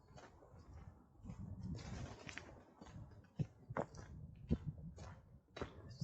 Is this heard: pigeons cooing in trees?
yes